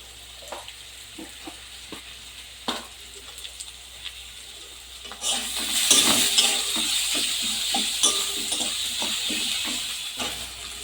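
Whole cumin seeds hit hot oil for tempering, a dense crackling sizzle that rises suddenly about halfway through and stays loud and steady, with light stirring and scattered clinks beforehand.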